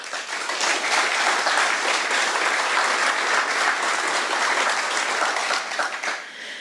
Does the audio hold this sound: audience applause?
yes